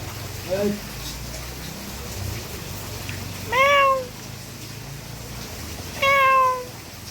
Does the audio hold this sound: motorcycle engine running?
no